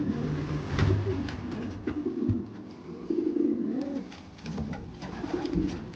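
Andalusian racing pigeons coo in a loft, steady low throaty cooing from several birds close by over a constant background rustle, with soft knocks and shuffles.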